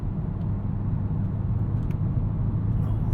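A 2025 BMW M5 engine pulls hard under acceleration, a steady, loud low rumble with dense road and cabin drone holding an even level throughout, no voices on top.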